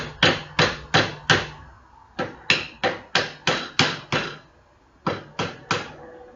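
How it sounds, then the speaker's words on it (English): A hammer strikes a chisel again and again while a wood joint is chopped out by hand, making sharp, close, evenly spaced knocks in three quick runs with short pauses between them. "So we just take the hammer. The quickest way to do is to"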